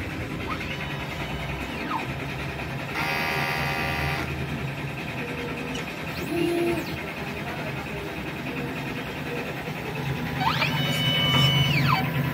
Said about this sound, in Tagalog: pagkatapos ng head clean, punasan ang kanyang wiper at mag-nozzle test.